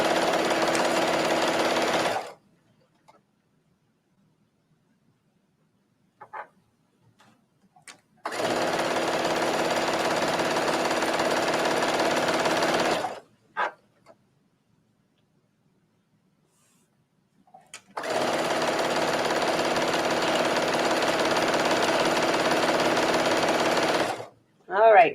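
A sewing machine stitches the hem of a Chloe trench coat in three loud, sustained runs of several seconds each, separated by near-silent pauses with faint handling noises.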